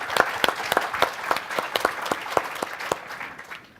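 Audience applause at a public discussion event on education and equality, a steady patter of many hands clapping at moderate distance, fairly even in density and fading slightly toward the end.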